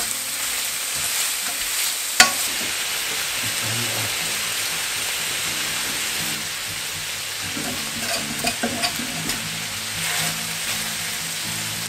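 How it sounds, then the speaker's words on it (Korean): Sliced garlic and paprika stir-fry in a paella pan, producing a continuous, busy sizzle with steady scraping and stirring noises throughout and a sharp utensil knock near the start. "썬 마늘을 넣고 파프리카를 다 넣어줍니다. 그리고 골고루 볶아주세요."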